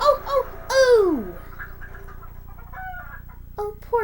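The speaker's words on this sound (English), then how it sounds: "Oh, poor chickens." Animated chickens at a railway crossing squawk and cluck in sharp bursts, with one long, drawn-out squawk early on, then scattered clucks and a final flurry, all close and loud.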